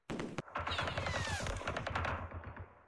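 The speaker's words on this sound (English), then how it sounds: "Got a machine gun on this jeep here." Rapid machine gun bursts from a jeep in the war strategy game Campaign Series Middle East, a dense rattling volley of shots that runs loud and sustained for nearly three seconds.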